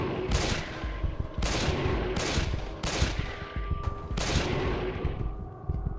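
Gunfire in an RPG Maker horror game: five loud, sharp shots spaced about a second apart, each leaving a decaying ring, over a steady low background drone.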